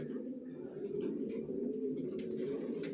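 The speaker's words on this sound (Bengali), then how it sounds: "কোয়ালিটি সম্পন্ন কবুতর পালি, কোয়ালিটি সম্পন্ন বাচ্চা রেডি করে নিজের লফট থেকে বিক্রি করি" Racing pigeons cooing inside a loft, a continuous soft, throaty cooing from several birds close by, with no talk.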